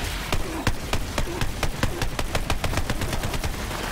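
Rapid gunfire from Borderlands 3, a steady run of sharp, evenly spaced shots rattling off for several seconds over a busy game soundscape, loud and close.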